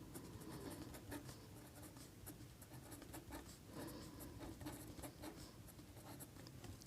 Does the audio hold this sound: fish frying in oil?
no